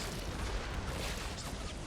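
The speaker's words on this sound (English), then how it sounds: "Got a lot of mortars landing over here as well." Mortar rounds land and burst in a Warhammer 40K battle game, a dense, continuous rumble of overlapping booms and pops at steady loudness, with no single blast standing clear of the din.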